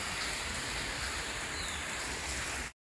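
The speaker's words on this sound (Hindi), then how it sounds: "सारी रात से बारिश हो रही है भाई, और काफ़ी ज़्यादा हो रही है।" Heavy rain pouring steadily after a night of downpour, a dense, even hiss of falling water that stays constant and fairly loud throughout before cutting off abruptly.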